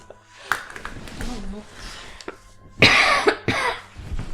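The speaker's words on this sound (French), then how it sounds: "Désolée pour les petites toux intempestives." Several short, harsh coughs from a woman during a Halloween podcast, one near-silent cough early on and a louder cluster of two or three close bursts near the end, with speech-like sounds in between.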